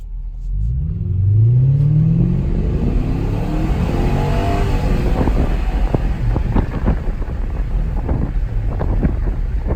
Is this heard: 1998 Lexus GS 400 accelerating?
yes